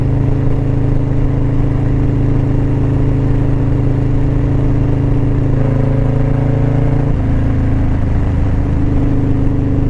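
A motorcycle engine drones steadily while riding, a loud continuous mid-pitched hum that shifts pitch partway through as the rider changes speed.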